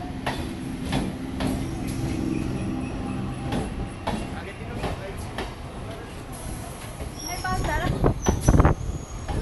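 A train at a station on the Namkhana to Kolkata line, with a steady rumble of cars and wheels rolling close by and people talking over it. The noise swells louder near the end.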